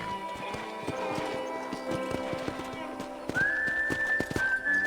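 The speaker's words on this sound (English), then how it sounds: "let's see if you can still ride a horse. Giddy up!" Horse hooves clip-clopping in a steady rhythm while riding in the Red Dead Redemption video game, with a whistle-like tone and ambient game sounds layered over the regular hoofbeats.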